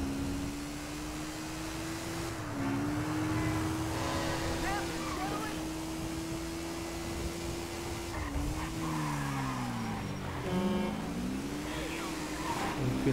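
A Honda Pop 110i motorcycle engine in GTA V revs steadily and keeps accelerating, its pitch swooping up and down between gear changes, close and continuous throughout.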